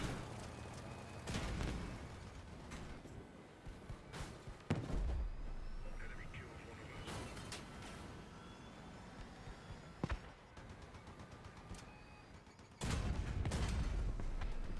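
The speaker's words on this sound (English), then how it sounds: "He's shooting me with his gun!" Enemy gunfire in a video game, a burst of loud rapid shots with several separate sharp reports spread across the clip, followed by a heavier sustained volley near the end, with a voice talking in the background.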